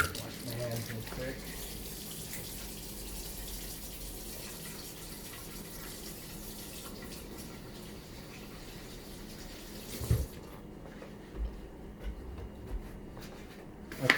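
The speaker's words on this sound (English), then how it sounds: "Wash my hands real quick." Water runs steadily from a kitchen tap as hands are washed beneath it, a continuous close rushing that stops near the end, followed by a few small clicks and knocks.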